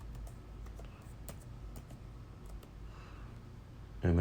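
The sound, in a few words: typing a command on a computer keyboard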